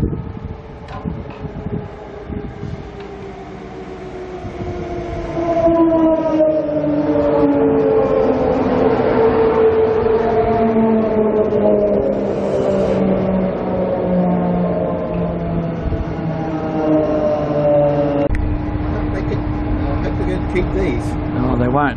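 An electric ICE train set pulls into Cooroy station on its run from Gympie North to Brisbane, its loud, close motor whine gliding steadily downward in pitch over rumbling wheels and wind as it slows.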